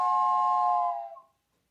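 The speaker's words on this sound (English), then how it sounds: "This is my train whistle." A single sustained whistle tone, bright and loud, holding steady before fading out into silence.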